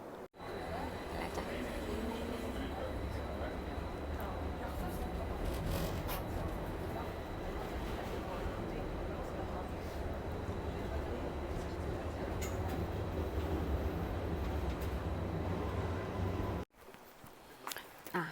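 Steady low rumble and rattle of a commuter train ride in Sweden, heard from inside the carriage, continuous for most of the stretch before cutting to a quieter, different ambience near the end.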